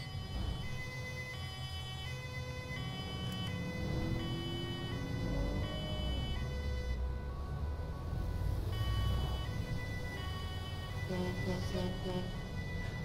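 A wailing ambulance siren in Grand Theft Auto V sweeps up and down amid engine rumble and game-like tones, with a voice talking over it.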